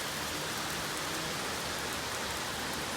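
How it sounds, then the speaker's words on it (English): Steady rain falls outdoors in Vermont, a dense, even hiss of drops with no pauses and no voices. "Just the sound of rain."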